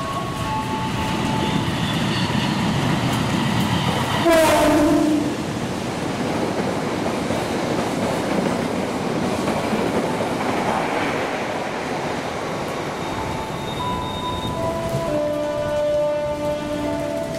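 Parahyangan Fakultatif 142F passenger train rolling through a station, a steady loud rumble of wheels and carriages with a brief blast near the start and tonal horn notes rising toward the end.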